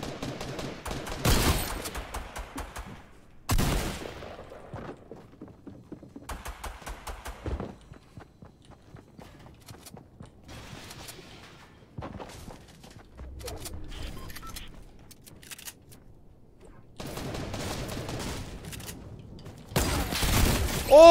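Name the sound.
SMG gunfire in Fortnite video game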